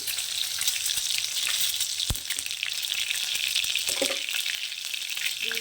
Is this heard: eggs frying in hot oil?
yes